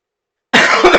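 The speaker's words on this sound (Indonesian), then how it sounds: "Langsung batuk." A single close, loud cough bursts out of silence, followed by a couple of rougher throat-clearing pulses.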